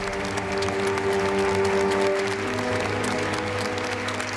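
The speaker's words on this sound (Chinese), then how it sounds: "再俾啲利掌声佢。" Applause from an audience at a gathering in a Cantonese action drama, a steady sustained clapping with music or tonal hum underneath, fairly loud throughout.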